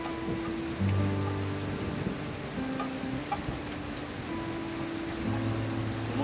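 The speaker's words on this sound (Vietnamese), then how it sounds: "Trời thì đang mưa" Steady rain falls over a rural home garden, a dense continuous hiss of drops hitting surfaces close by, with faint low tones running underneath and no talking.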